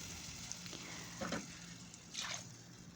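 Curd and water cooking for a chicken curry in a pan on low heat, giving a low steady sizzle with two brief bursts of bubbling or stirring, faint and close.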